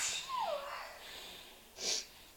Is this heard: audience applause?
no